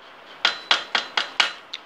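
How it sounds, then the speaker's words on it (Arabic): A hammer taps a screwdriver against a bicycle bottom bracket cup, six or seven sharp metallic strikes in a quick, slightly uneven rhythm, close and loud with no talking. "اجيب مثلا الشاكوش معايا مثلا واجيب اي مفك عندي"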